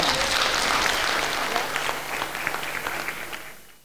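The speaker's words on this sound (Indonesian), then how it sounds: "Tepuk tangan." Audience applause at a Lions club cabinet meeting, a dense wash of clapping that holds steady and then thins into scattered individual claps as it fades.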